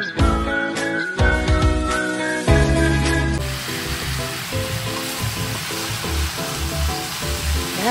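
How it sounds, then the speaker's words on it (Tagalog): Chicken lollipop legs, bones and necks hit hot oil in a pan for Filipino adobo, bursting into a loud, steady sizzle and crackle that fills the whole stretch, with a few clinks of the pan and some music playing underneath. "nagsasangkot na tayo ng chicken lollipop legs at saka mga buto ng"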